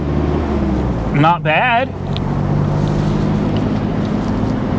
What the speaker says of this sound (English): A little bit of an exhaust leak